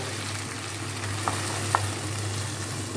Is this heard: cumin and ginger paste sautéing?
yes